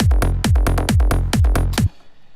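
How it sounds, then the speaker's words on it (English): Punchy kick drum layered with deep bass notes hitting together in a steady driving rhythm, close and loud, with several layered bass parts stacked, ending abruptly into near silence. "So that's the whole kick and bass"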